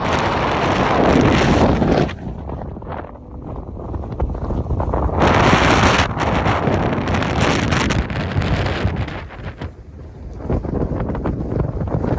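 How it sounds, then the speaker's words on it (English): Loud, blustery wind roars and buffets the microphone in heavy gusts on a California desert hike, rising and easing briefly but never dropping away. "it was actually so windy"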